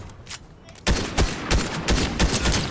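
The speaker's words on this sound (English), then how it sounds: "No, someone's shooting at me." Gunfire in a video game: dense bursts of rapid shots start abruptly after a quiet opening and continue in loud, uneven volleys to the end.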